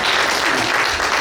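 A church congregation claps during a Sunday worship service, a loud, dense, continuous round of applause lasting just over a second with low murmur underneath.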